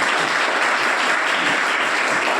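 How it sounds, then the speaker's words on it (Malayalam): An audience at a Lions Club hunger project inauguration in a government high school claps in dense, continuous applause that stays steady and fairly loud throughout. "അതിൻ്റെ സന്തോഷം ഒന്ന് കൈയടിച്ച് ഒന്നുകൂടി സ്വീകരിക്കും."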